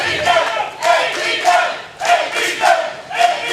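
A wrestling crowd jeers Tim Smith in repeated rhythmic swells of chanting, each surge rising and falling about every half second, loud and dense.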